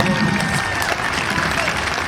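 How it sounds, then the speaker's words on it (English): Crowd applause for participants at a 125th anniversary parade and celebration in Raymond, South Dakota, steady outdoor clapping with crowd murmur and voices mixed in. "let's have a big round of applause for all the participants"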